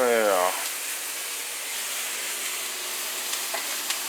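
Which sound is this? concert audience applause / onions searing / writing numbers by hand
onions searing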